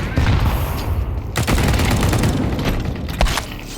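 Sustained gunfire from many snipers in a multiplayer shooter video game, a dense crackle of overlapping shots with a sharper burst near the end, loud and close throughout.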